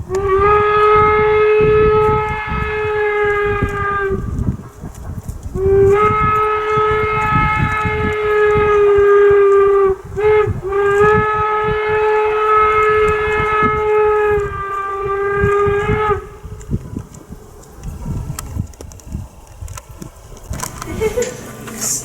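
Steam locomotive No. 119 sounds a loud, close steam whistle at Promontory, Utah, in three long sustained blasts separated by short gaps, followed by a quieter stretch of rumbling and hiss.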